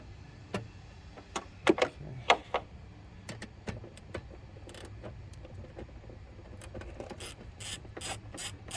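A ratchet loosens headlight bolts on a 2008 BMW 550i, with close, sharp clicking bursts at irregular intervals and quieter handling noises between them.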